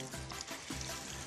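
Breaded cabbage fries in butter in a pan, a soft continuous sizzle with faint crackles, quiet and close, with no voices.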